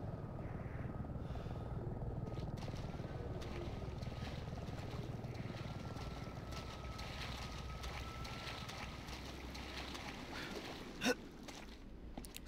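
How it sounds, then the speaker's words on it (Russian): A helicopter in the video game Resident Evil 7 drones steadily and continuously with a low rotor rumble, with a brief click near the end. "Вертушка."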